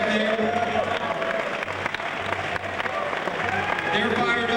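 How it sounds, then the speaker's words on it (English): A crowd at a contest event applauds the contestants, a loud sustained wash of clapping and cheering that runs unbroken throughout. "Let's give them a round of applause."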